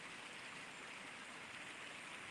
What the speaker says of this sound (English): I like the sound of the water behind me.